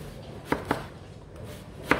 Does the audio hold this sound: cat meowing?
no